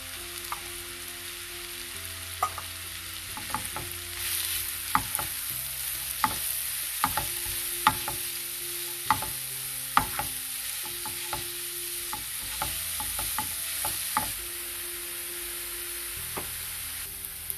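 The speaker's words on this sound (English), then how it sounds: "Now we'll add onions very finely chopped and let it fry till golden brown" Finely chopped onions fry in a pan for a Dhaba-style green peas masala, a steady sizzle under repeated clinks and scrapes as a spoon stirs them.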